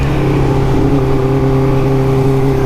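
A 1981 Honda CB900F motorcycle engine revs close and loud, its steady humming drone climbing slightly in pitch and holding there for a few seconds.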